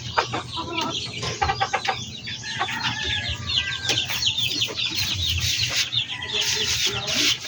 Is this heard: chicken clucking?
yes